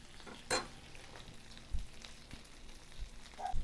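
A flour burger frying in a pan and being flipped, with a scraping clatter near the start and a soft thud midway over a low, steady sizzle.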